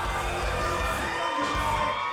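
A wrestling crowd at a Duke City Championship Wrestling show cheers and shouts steadily, with whoops rising above a dense, continuous roar of voices throughout.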